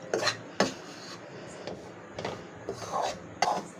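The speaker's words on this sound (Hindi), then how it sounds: "अब हमने हल्की आंच पे आटे को भूनना है।" Wheat flour being roasted in a pan over low heat for panjiri, with a utensil scraping and stirring against the pan in repeated strokes, close and moderately loud.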